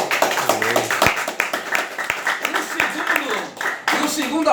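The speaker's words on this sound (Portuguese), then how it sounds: "Aplauda ao Rei Jesus." A church congregation claps in response to the preacher during a sermon, scattered uneven hand claps under loud speech and shouting voices.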